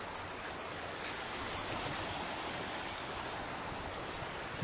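A swollen river after the 2023 Vermont flood rushes past in a steady, loud roar of turbulent water that fills the whole stretch with broadband noise and never lets up.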